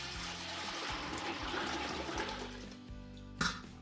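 Acorn tannin dye liquid is poured back into a container at a sink, a steady close splashing and trickling pour with a small clatter near the end.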